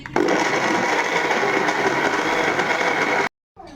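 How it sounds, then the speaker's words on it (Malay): A loud, steady blender grinding cassava continuously at high speed, then abruptly cutting off near the end. "saya tak ada pematar ubi jadi saya pakai blender."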